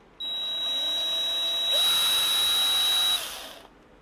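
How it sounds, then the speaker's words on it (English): A hand drill with a small solid carbide bit drills out stakes on a cable sheath, a steady high whine running for about three seconds, loud and close, with a shift in pitch partway through before it stops. "We'll just try to drill out these two stakes here."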